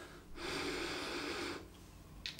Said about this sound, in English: Let me have a quick sniff.